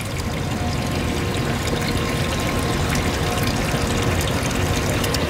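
Water pouring steadily and loudly, close up and continuous, from recycled purified wastewater in Orange County, California being served for drinking, with no talk over it.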